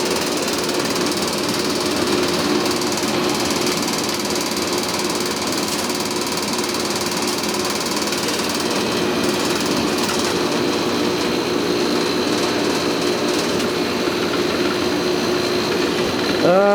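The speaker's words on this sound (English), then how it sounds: "Let's go ahead and turn the compressor on." An old Fedders 5100 BTU window air conditioner with a Rotorex compressor, run after sitting on its back for a year, giving a steady, loud mechanical hum and rattle with a knocking drone that holds throughout.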